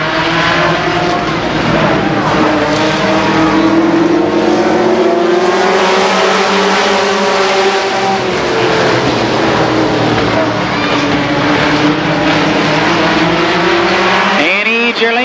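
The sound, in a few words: race cars racing laps at Columbus Motor Speedway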